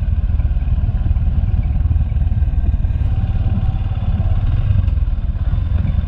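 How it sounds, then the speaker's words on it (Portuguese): A motorcycle rolls down a steep descent on a rural road, its engine a loud, steady low rumble with rattling clatter from the bike throughout. "Essa descida aqui a gente não pode vacilar e soltar a moto muito não, hein?"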